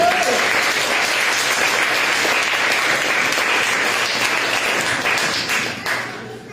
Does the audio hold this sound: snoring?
no